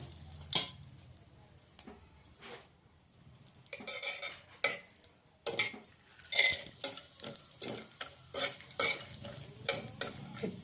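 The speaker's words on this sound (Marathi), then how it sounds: "मी तुपावरते काजू बदामचे जे काप केले छोटे छोटे ते आधी चांगले तळून घेते" Small slivers of cashew and almond fry in ghee for ukdiche modak, with a spoon clinking and scraping against the pan in irregular bursts over a soft background sizzle, close by and without talk.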